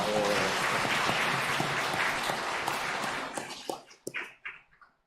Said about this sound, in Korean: 우리 주일학교 아이들과 또 부모님들을 환영하는 의미로 박수 한번 하겠습니다.